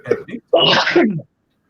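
A single burst like a sneeze or throat-clearing follows some brief vocal sounds. It comes close and loud during casual chatter.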